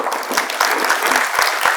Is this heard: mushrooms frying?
no